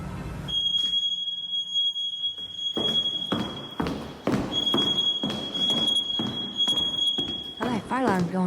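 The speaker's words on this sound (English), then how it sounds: "I like fire alarms going off. Smoke alarms." A smoke alarm sounds as a steady, piercing high beep that holds for most of the stretch, with loud voices and thumping noises underneath and short gaps in the tone.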